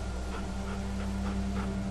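Sam, a dog in The Walking Dead Season 2 video game, gives soft repeated whimpers and muffled barks over a steady low game hum, close and fairly quiet throughout.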